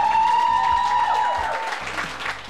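An audience at a seminar in Barbados applauding, a wash of crowd clapping that fades slightly, with a ringing tone over it at first.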